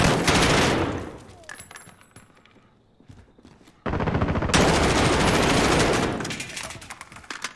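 Rapid automatic gunfire from Call of Duty: Modern Warfare, loud and dense in bursts, then a quieter lull with scattered shots before heavy sustained firing resumes, with a voice talking faintly underneath.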